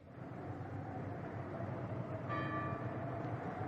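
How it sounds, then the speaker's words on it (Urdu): Large bells hanging from a ceiling give one struck, ringing tone midway through, sustained over a steady low rumble. "رسہ ہلا اور گھنٹیوں میں سے آواز نکلی"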